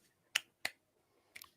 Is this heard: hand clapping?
yes